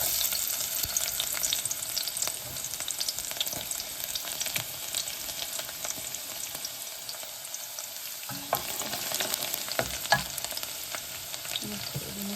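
Garlic fries in hot oil with panch phoron for an aubergine bharta, a steady, close, crackling sizzle that runs unbroken throughout, with a brief shift partway through as the pan is stirred.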